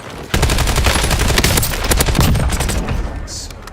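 Rapid video game gunfire bursts loud and close, with dense automatic shots running nearly continuously and a brief pause near the end.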